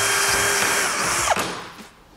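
Power drill boring a small hole for screws into a board, a steady whirring drone lasting over a second before winding down and stopping, close and loud with no talk.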